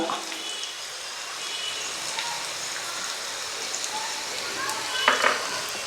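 Curry leaves and asafoetida tempering in hot oil for Telangana-style pulihora, a steady close sizzle and crackle with a brief louder spitting burst near the end.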